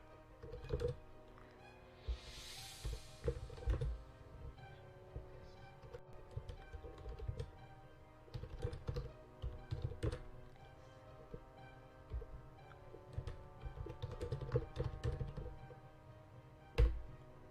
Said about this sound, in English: It's like I'm trying to type in my lap and I can't do it because typing in my lap in the dark sucks